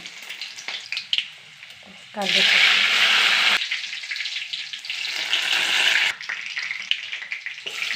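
Garlic hits hot oil with mustard seeds while cooking a pumpkin and yam fry, bursting into a loud bright sizzle that holds steady, then eases before flaring again, with stirring clatter between.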